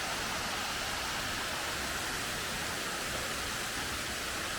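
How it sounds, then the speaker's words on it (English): Waterfall in Bankhead National Forest in northwest Alabama, a steady, full rushing roar of falling water that fills the whole clip close by, with no voices. "I couldn't imagine with this waterfall."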